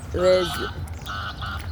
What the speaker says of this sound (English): that's a goose. That's an actual goose.